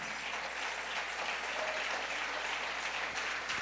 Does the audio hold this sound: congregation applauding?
yes